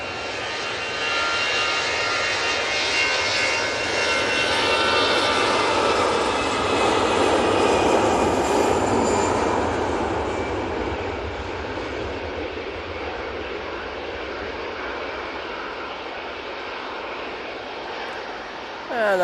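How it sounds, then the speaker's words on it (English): An EasyJet Airbus A320 jet takes off at Manchester Airport, its loud, steady engine roar swelling as it rolls, then slowly easing off as it climbs away, with no talk over it. "Next out, EasyJet, and this beauty is on the roll already."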